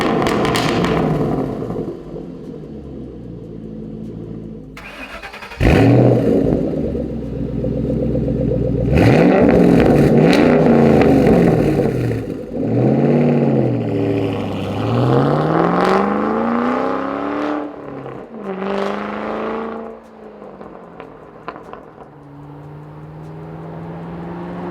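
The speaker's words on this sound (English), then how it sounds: "Lots of crackles. I mean, a really good sounding exhaust system." Ford Mustang fitted with an AWE stainless steel Touring Edition axle-back exhaust, a loud, close engine note with rising and falling revs, whooshing pitch sweeps and clattery crackles. It carries on for about 25 seconds with no talking.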